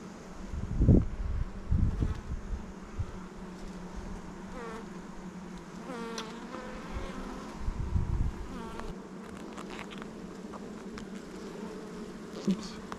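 Honeybees buzz steadily in an opened hive as frames are handled, a close, continuous drone with a few louder swells and faint thumps of handling throughout.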